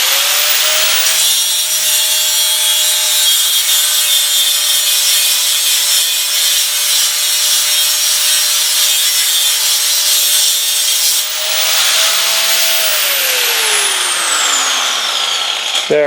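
A grinder steadily shaves metal off a suspension coil spring to soften its rate, giving a continuous, loud abrasive whine with a slight pitch shift near the end.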